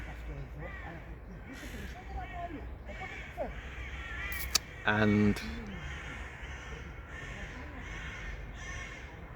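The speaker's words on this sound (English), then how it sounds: "I think even these birds were annoyed by that guy on the phone." Crows in Cyprus caw repeatedly, harsh calls spaced through the stretch against steady outdoor background noise, while someone talks and a brief loud clatter cuts in midway.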